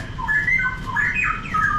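A caged bird of a kind called a Chinese bird calls close by: a quick run of bright, sliding whistles and chirps over a low background hum.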